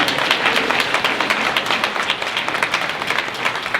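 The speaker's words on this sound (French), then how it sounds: "vous pouvez l'applaudir effectivement" An audience at a conference session at a trade show claps continuously, a dense, steady patter of many hands close by.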